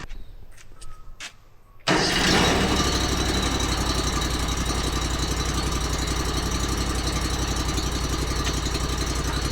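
A Hardwood Mill GT34 sawmill engine catches after a few faint clicks and settles into a loud, steady idle close by, running alone to the end.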